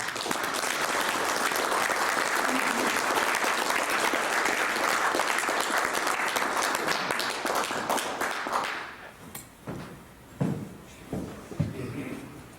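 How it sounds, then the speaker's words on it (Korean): A seminar audience at a security forum claps to welcome a lecturer, a dense steady roar of hands for about nine seconds that then breaks into a few scattered, separate claps. "우리와 같이 박수로 환영하겠습니다"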